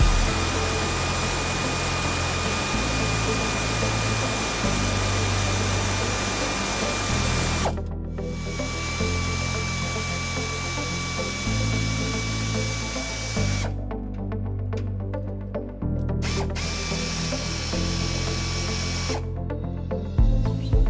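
A power tool whirs in repeated bursts, loosening bolts on a 2008 Toyota Tacoma during a trailer hitch install, with pitch shifts and short pauses between runs, close and loud with no talk.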